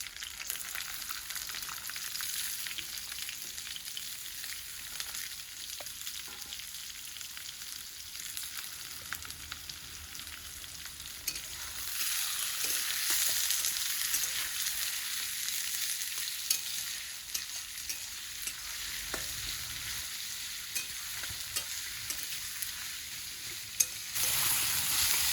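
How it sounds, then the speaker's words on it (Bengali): Onions sizzle steadily in hot oil with a bay leaf, a dense continuous frying hiss that swells louder partway through with occasional stirring clicks, close and without voices. "পেঁয়াজটা ভাজা হয়ে গেছে, লাল লাল করে ভাজলাম"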